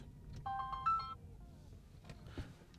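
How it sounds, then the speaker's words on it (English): A phone ringtone goes off in a Detroit residential neighborhood during a house-hunting tour: a short, bright melodic trill of repeated tones over a steady low background rumble, then fading into quieter noise. "phone's ringing"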